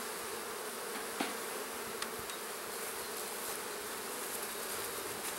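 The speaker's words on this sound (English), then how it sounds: "3 or 4 of them just decided it was time to attack." Honey bees buzz in a steady, dense drone around an open beehive, with faint clicks and bumps of handling now and then and no voices.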